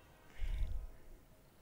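A cat in the Marvel's Spider-Man video game gives a single short meow, moderately close and alone.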